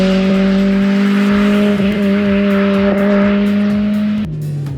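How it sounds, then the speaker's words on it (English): A Toyota hatchback's four-cylinder 2ZZ-GE engine revs hard and high, a sustained loud whine holding pitch before dropping off near the end. "It revs with the intensity of a finely tuned racing bike"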